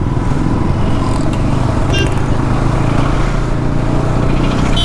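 A Bajaj Pulsar NS200 motorcycle out on the road, its engine drone and rushing wind blending into a loud, constant roar recorded from the rider's position.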